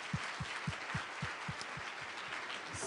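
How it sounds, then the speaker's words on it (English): A business-talk audience applauds speaker Michael Brito, a soft wash of clapping with a steady, rhythmic thud of nearby claps beating through it. "it's a round of applause for Michael"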